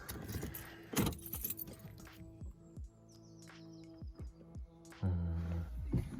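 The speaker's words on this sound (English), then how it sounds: "Let's see if we can restart the car actually." An Audi car with a starting problem is restarted: keys jangle near the ignition, a low engine throb and hum come and go, and a stronger burst near the end suggests the engine catching, with no talking.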